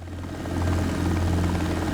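A helicopter in the X-Plane 12 flight simulator, hovering low near the ground, gives a steady, loud drone of engine and rotor that swells slightly and holds at an even level throughout, with no voices.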